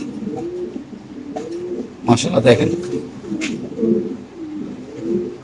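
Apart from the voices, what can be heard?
Lahori pigeons cooing in a loft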